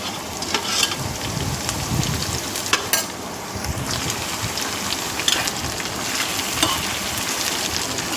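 Chopped ivy gourd sizzling in oil in a pan on the stove, a steady crackling hiss with occasional sharper pops and a few scraping stirs throughout.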